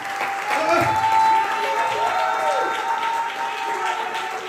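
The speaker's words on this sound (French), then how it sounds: "Est-ce qu'on peut acclamer cet ange de Dieu?" Church congregation clapping and cheering during a service, a steady wash of applause at moderate level with voices rising over it.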